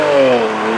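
A 2024 Nissan Z NISMO sports car engine revs loudly up close, a brief rising then settling drone of engine tone with no voices.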